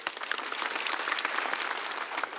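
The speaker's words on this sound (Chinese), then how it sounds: "希望大家给他们热烈的掌声" A studio audience at a stand-up comedy show bursts into dense, even clapping that fills the whole moment, loud and close, with no voice over it.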